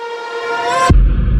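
A layered reversed reverb synth tone swells steadily and ends in a sharp, heavy impact, with the reversed clatter of a falling metal wrench folded in. The result is a short, dense build-up that cuts off hard into a booming low thud.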